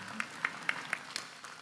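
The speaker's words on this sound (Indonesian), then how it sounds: "tepuk tangan buat Bu Samrotul Jannah" An audience at a Gus Iqdam religious gathering applauds for Bu Samrotul Jannah: a handful of sharp, evenly spaced claps, fairly faint, over a low background murmur.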